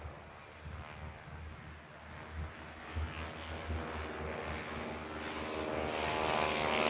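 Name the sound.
Stearman biplanes taking off at airshow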